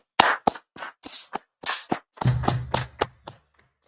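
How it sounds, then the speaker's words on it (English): A few people clap in sparse, uneven bursts, sharp separate claps close by rather than a full crowd ovation, tapering off into quiet. "All right, clap it up."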